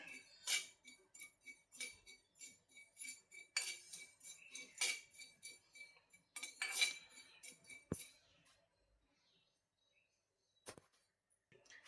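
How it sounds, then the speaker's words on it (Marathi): Poppy seeds dry-roasting in a hot pan, heard as a string of light clinks and scrapes of a spoon against the metal in an irregular rhythm, close and faint, thinning out to near silence with a last tap near the end. "एक चमचा खसखस घेऊयात आणि ही खसखस पण छानपैकी भाजून घेऊयात"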